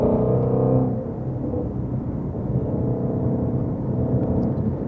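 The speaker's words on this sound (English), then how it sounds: "Let me downshift as much as I can." Ford Mustang GT350 engine heard from inside the car on a drive toward curves, a loud steady low rumble with a brief drop in revs during a downshift, then continuing to drone under road noise, no talking.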